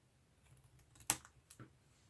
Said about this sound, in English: So you snip a little bit off, flip it, put it on the opposite corner